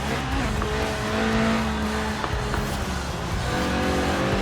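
A sports car engine in a video game, Forza Horizon 4, revving hard toward 8,000 RPM from a 190-horsepower 1.8-litre engine, with tire squeal and a rising, shifting engine note under a steady rumble, loud and continuous.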